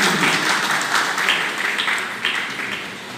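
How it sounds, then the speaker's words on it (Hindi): An audience at a poetry recital claps in a dense, steady burst of applause that sounds close and fills the whole moment. "जोरदार ताली बजाते हुए"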